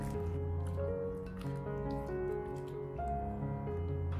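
Diced pork being mixed by hand with cornstarch for sweet and sour pork, producing soft, wet squishing and squelching sounds close by under steady background music.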